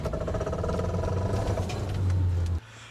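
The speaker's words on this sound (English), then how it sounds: "Your car make a clacking noise when you accelerate and corner at the same time?" A car's failing CV joint clacks while the car accelerates and turns: a close, steady engine drone with light clattering over it, swelling slightly before cutting off abruptly near the end.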